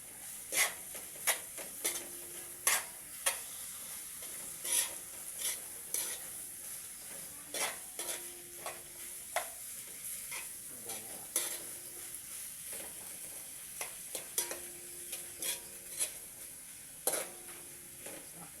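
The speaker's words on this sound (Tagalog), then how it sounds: "Haluin ulit natin." Food is being stirred in a pan while it cooks, with repeated scraping strokes of a spoon against the metal in an uneven rhythm over a faint sizzle, heard close and with no voices.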